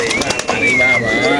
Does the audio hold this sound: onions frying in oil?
no